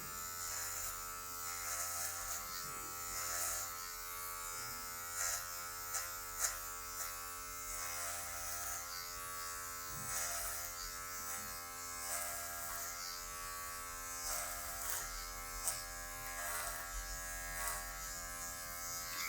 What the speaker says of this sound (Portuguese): vamos vir somente com a ponta da máquina para tirar essa marcação que restou